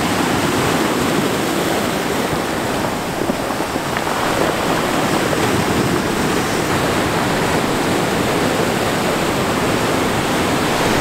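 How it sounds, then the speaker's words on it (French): Waves break onto a rocky pebble beach near Kaohsiung, Taiwan, in a steady, loud, broadband roar of surf and washing stones that continues without pause for the whole stretch, close by and with no voices. "Sur une plage de cailloux, c'est plein de rochers, on a les vagues qui claquent derrière nous."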